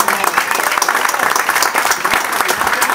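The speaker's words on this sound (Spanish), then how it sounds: "Un fuerte aplauso para todos los cabalgantes." Crowd applause at an 18th birthday party in González, Tamaulipas, a loud, dense burst of many people clapping with some voices mixed in, sustained evenly across the whole stretch.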